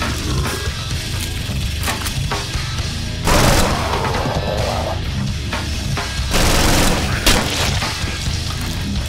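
Heavy gunfire and explosions in the horror shooter Killing Floor, loud booms and crashes punctuating a constant barrage of in-game shots and noise.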